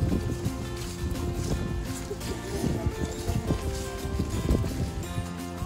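Wind buffets the microphone in a steady low rumble with gusty surges throughout, roaring and constant, outdoors on Ginkgo Asan Road, South Korea.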